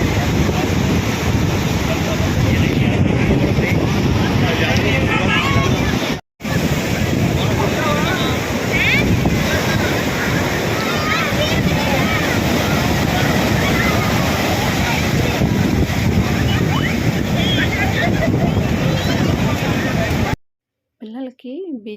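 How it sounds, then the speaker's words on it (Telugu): Roaring sea waves pound a beach in a loud, continuous, wind-buffeted surf that runs almost unbroken. People's voices are heard faintly under it. "ఇప్పుడైతే ఆ మోత అలల మోత ఎలా ఉందో చూడండి"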